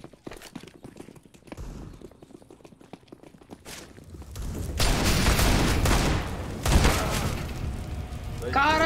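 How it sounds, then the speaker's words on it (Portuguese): Gunshots hit armored glass in a multiplayer shooter, a cluster of sharp bursts and thuds in the second half following quieter footsteps and clicks, with a player's voice over the game sounds. "eu dei 3 tiros no vidro de Igor"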